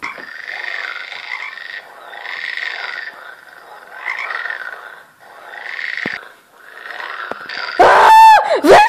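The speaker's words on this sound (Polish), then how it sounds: "żaba." A frog croaks in a series of rhythmic, throaty bursts with short pauses between them, fairly close, ending in a sudden loud squealing cry.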